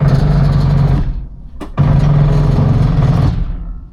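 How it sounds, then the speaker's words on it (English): A 1980 Caterpillar diesel engine cranks on a struggling starter, giving a loud, labouring mechanical churn that sags and briefly stops, then catches again and grinds on before trailing off. "The starter sounds like it's having a real bad time. The engine does crank over"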